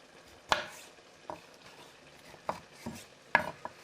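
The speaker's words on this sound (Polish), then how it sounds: "Ananas kroimy" Pineapple is cut on a cutting board in a home kitchen: several distinct knife strikes and thuds land at irregular intervals, close and crisp against a quiet background.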